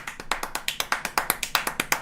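Rapid, even handclaps from a played recording, about a dozen sharp slaps in two seconds in a steady brisk rhythm, fairly close and moderately loud, with no voices over them.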